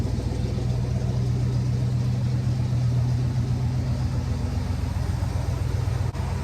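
A car engine idles with a steady, loud low rumble throughout, unchanging and close by.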